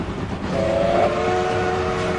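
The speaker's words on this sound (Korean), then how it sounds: "저쪽에서 기차 소리가 들려왔어요" A train approaches as a story sound effect, a steady rumbling rush with a sustained whistle-like tone swelling in after a moment, fairly loud and continuous with no voices.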